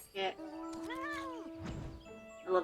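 The fat cat mount in Final Fantasy XIV lets out a drawn-out, wavering meow with a rising and falling pitch, framed by short soft cues and a brief muffled thump, fairly quiet overall.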